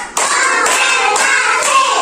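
Children clap their hands together in a counting game, a dense burst of claps that runs steadily for about two seconds, close and fairly loud, with no talking over it.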